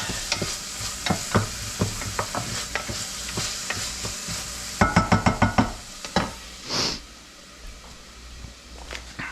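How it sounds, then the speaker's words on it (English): Garlic frying in a pan for Moroccan couscous, with steady sizzle under repeated sharp knocks and scrapes of a stirring utensil, a quick cluster of taps midway, close and fairly loud. "I feel like that garlic's burning a little bit."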